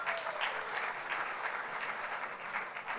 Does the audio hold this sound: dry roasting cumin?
no